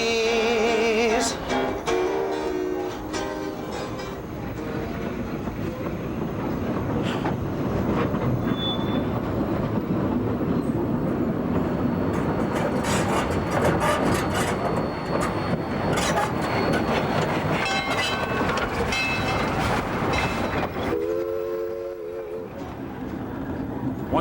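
A train in Hawaii rumbles across a trestle with rattling wheels and clatter, a horn sounding near the start and again near the end, while people talk over it.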